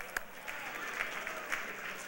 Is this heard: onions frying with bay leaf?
no